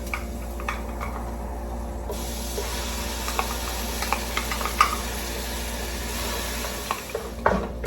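A paste of ginger, garlic and green chilli fries in hot oil, a steady low sizzle and hiss with occasional soft clicks and stirring scrapes throughout.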